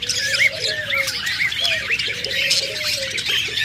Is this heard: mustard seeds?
no